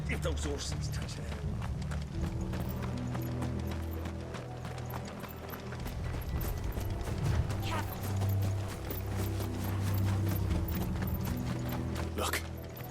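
Horses' hooves clip-clop steadily in Final Fantasy XVI, a rhythmic trotting beat that runs the whole time beneath game music and spoken dialogue.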